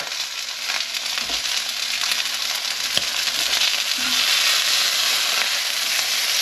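Thick steaks pan frying with a steady, fairly loud broadband sizzle throughout, brief clicks and knocks as the meat is shifted and flipped in the pan.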